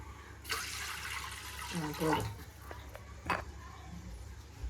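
Water splashes and pours briefly at close range, with a short gurgle midway and a quieter splash near the end.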